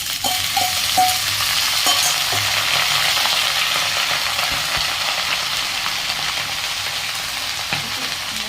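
Greens sizzle steadily in hot mustard oil with dried chilli and five-spice seeds as they are stirred, a continuous loud frying hiss with occasional scraping clinks of the utensil against the pan.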